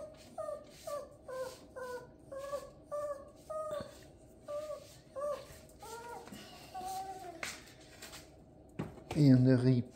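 Hungry dogs whimper and whine in a series of short, rising, high-pitched cries, close and fairly soft, ending in a louder wavering whine with faint voices in the background.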